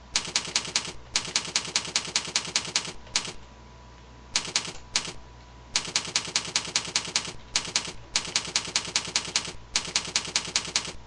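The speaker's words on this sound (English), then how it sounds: "type something in" Rapid clicking on a computer keyboard as text is entered, heard in several quick bursts separated by short pauses, close and clear with no talking.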